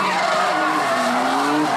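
A drift car at a D1 drift event skids through a corner, its tires howling in a loud, sustained squeal that wavers in pitch for under two seconds, close and alone.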